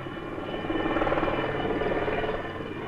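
A helicopter at the Marignane aircraft factory, where Alouette 2 and 3 helicopters are tested and built, makes a steady rotor thrum and engine whine at moderate distance, continuous for a few seconds.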